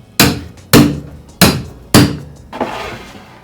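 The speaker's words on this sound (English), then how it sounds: "I'm going to take my punch. We'll get it through the center of the hole here." Metal punch struck with a hammer on top of a steel toolbox, four sharp ringing blows evenly spaced, close and loud, followed by a softer clatter.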